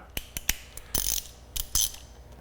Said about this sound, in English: we take the bolt out, we move it down